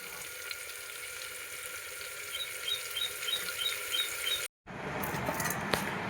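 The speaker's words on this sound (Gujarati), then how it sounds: "હવે આપણે વઘારને થોડોક સડવા દેવાનો આ રીતનો" A tempering of spices sizzles softly in a pan for mung beans and rice, with a steady hiss and occasional rubbing stirs, faint and close, cutting out briefly before resuming.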